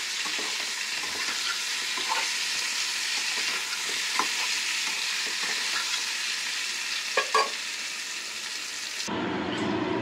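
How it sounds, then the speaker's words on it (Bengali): Pointed gourd (potol) pieces frying in hot oil with salt and turmeric give a steady, close sizzle with scattered crackles and pops, running continuously without talk before a brief shift near the end. "এই যে আমার পটলটা ভাজা হচ্ছে"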